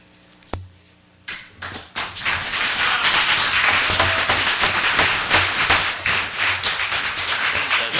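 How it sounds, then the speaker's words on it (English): Crowd applause at a public board meeting, starting with a few scattered claps before swelling into loud, sustained clapping from a large audience that continues throughout. "No more applause or anything from here on in."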